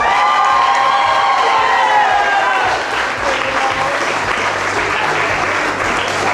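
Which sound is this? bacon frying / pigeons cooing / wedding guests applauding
wedding guests applauding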